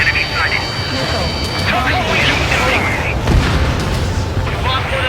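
Missile blasts and roaring jet engines fill an aerial dogfight in the flight game Ace Combat 7, a loud continuous rumble with heavy booms and warning tones, while radio voices speak over it.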